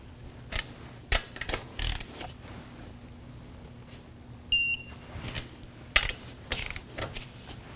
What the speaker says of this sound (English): Here we're gonna torque down our wheel to 80 foot-pounds in a star pattern.